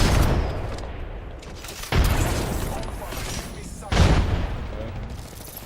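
Dense gunfire in a sci-fi shooter video game, with sustained rattling volleys and heavy booming bursts at regular intervals, loud and close, with speech-like sounds mixed in.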